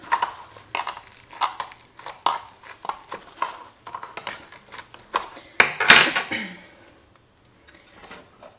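A bent tablespoon pressing sticky rice into a spam musubi mold: a run of sharp metallic clicks and scrapes in an irregular rhythm, close and fairly loud, ending with a brief harsher scrape before quiet.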